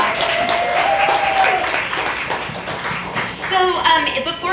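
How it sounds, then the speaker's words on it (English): Applause from the audience at the SXSW 2018 press conference for Meow Wolf's Origin Story, a dense wash of clapping that runs steadily throughout and swells near the end, with voices mixed in. "So give them a round of applause just to start it off."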